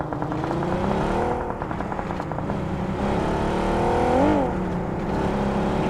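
Vehicle driving in the battle royale game BGMI, a steady engine drone with rising and falling revs, moderately loud and heard alone without talk.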